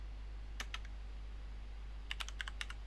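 Keystrokes on a computer keyboard: a short burst of three clicks, a pause, then a quicker run of about seven taps, close and crisp over a low steady hum.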